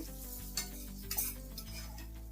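Ghee hitting a hot pan with garlic for dal khichdi, a constant close sizzle with light stirring and spoon clinks over a low steady hum.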